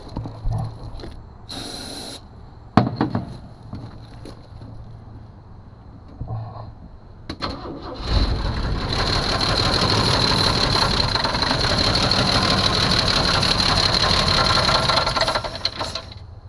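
After scattered clicks and a whirring crank, a long-dormant Jeep Cherokee engine catches and runs continuously with a rough, uneven rattle for the rest of the recording.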